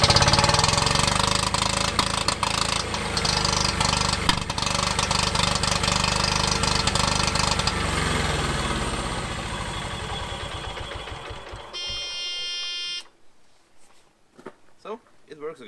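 A Yanmar minidumper's engine with a sticking throttle runs loud and close, revving high with rapid knocking, then drops off and dies away near the end as a voice talks over it.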